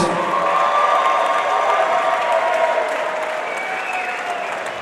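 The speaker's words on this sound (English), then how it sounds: "Let's get a big round of applause for these two fighters." Loud, steady crowd applause with cheering and whistles fills the hall after a three-round MMA bout at a Cage Titans FC event, sustained without a break.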